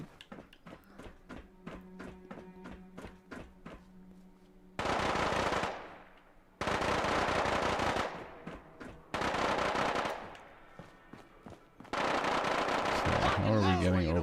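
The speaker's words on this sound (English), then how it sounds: "I really think somebody's fighting Cassandra right now. It's just absurd. Don't shoot the doctor, you idiots" Gunfire in Fallout 4 with the Sim Settlements 2 mod: rhythmic single shots followed by long dense bursts of rapid automatic fire, loud and close, with someone talking at moments in between.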